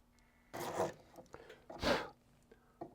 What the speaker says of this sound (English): So first of all, I'm going to go ahead and start by drilling this out. This is 18 gauge brass.